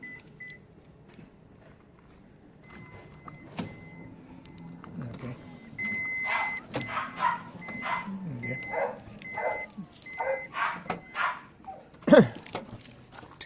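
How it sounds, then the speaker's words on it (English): A Norfolk Terrier barks at a cat in a short run of sharp, repeated yaps that grow busier and louder partway through, with a few faint clicks and beeps in the background. "Tank, the Norfolk Terrier, has spotted the cat."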